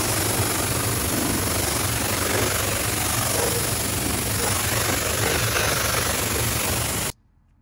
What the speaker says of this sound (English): This is past blowing out, so I'm jet washing it.